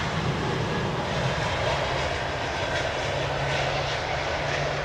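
A jet airliner taxis at London Heathrow Airport, a steady, fairly quiet engine hum and whine that holds level throughout without any voices.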